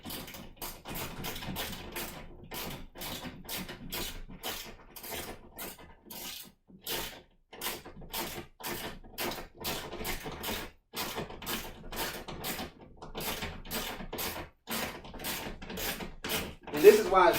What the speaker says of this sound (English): So now I'm just gonna tighten these screws up.